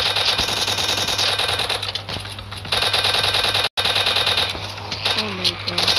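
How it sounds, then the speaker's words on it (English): Rapid machine-gun fire from a zombie-shooting video game, a dense, steady rattle that carries through nearly the whole stretch with one brief dropout. A faint voice is audible underneath. "We have no help, then shoot."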